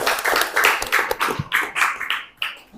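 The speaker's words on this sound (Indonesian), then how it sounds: "Tepuk tangan." Several people clap their hands in a classroom, a short burst of irregular, fairly close claps that thins out toward the end.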